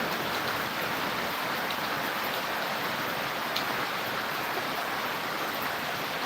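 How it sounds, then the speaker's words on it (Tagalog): Heavy rain pours down steadily as a dense, loud, continuous hiss with no break, with no voices. "Lakas ng ulan guys"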